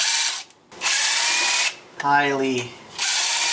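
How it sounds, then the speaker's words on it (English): A DeWalt impact drill runs in loud buzzing bursts with brief pauses between them, and a short stretch of a voice speaking falls between two of the bursts. "using an impact drill for the first time, this is a DeWalt"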